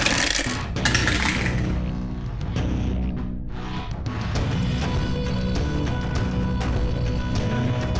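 Attack dice for the Heroscape board game clatter and rattle, with a burst of sharp plastic clicks and tumbling knocks followed by scattered settling taps, close and fairly loud.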